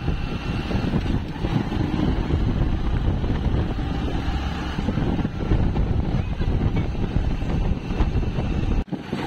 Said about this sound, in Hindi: दोस्तों बाइक निकाली है, बस कॉलोनी का गेट आने वाला है